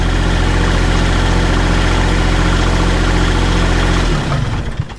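A digger's diesel engine idles loud and close with a steady low rumble, then shuts down and rattles to a stop near the end.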